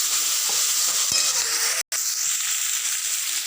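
Onions sauté in a pan until browned, giving a steady close sizzle with occasional stirring scrapes and a brief dropout partway through.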